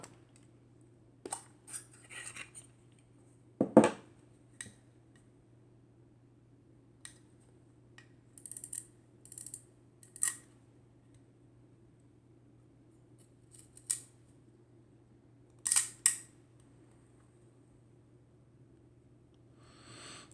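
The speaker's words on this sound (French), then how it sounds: "Donc alors je vais ouvrir le dos de l'appareil." Back of a Dr. Wohler Favor film camera with a Docar 45mm f2.8 lens being opened: scattered sharp clicks and small metallic snaps, close and quiet, spread across a near-silent stretch with no talk.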